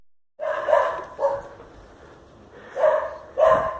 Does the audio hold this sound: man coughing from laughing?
no